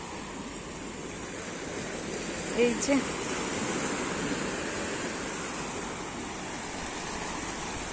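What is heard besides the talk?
sea waves near Digha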